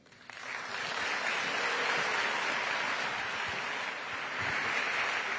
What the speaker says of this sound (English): Another round of applause for Kate Goldstein-Breyer!